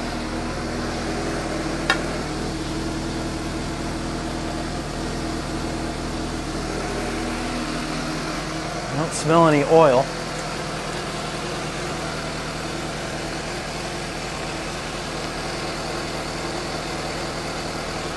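A Suzuki GSX-S750 motorcycle engine idles steadily with a low, even rumble and a quieter mechanical rattle, with a short brief voice over it partway through.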